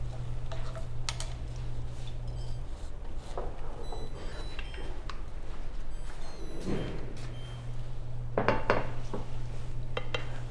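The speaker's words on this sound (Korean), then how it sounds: "설탕이 이렇게 잘 녹여질 때까지 고루 저어주시면 되고요" Sugar sauce stirred in a pan until the sugar dissolves, for Korean radish rice-cake gangjeong, heard as light, irregular clinks and scrapes of a utensil against the pan over a low, steady background hum.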